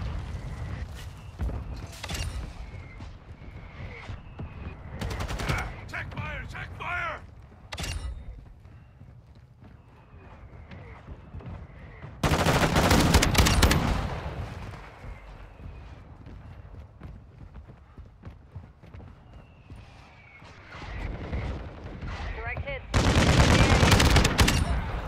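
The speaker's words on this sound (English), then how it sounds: "Mortar strike on the way." Explosions from a mortar strike in the video game Call of Duty: Modern Warfare II, loud broadband blasts in two heavy bursts among ongoing battle noise and gunfire, with some speech around them.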